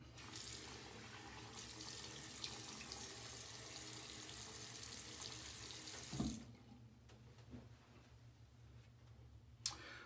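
A bathroom tap runs steadily into a sink while the face is wetted before shaving, a quiet continuous stream that cuts off about two-thirds through, followed by faint splashes and a click.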